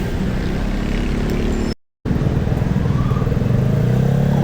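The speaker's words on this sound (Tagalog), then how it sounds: "Ang daming sasakyan." Heavy Saturday-evening traffic of cars and motorcycles heard from a moving motorcycle along a city road, a loud steady engine drone and rumble with wind, broken by a brief dropout in the middle.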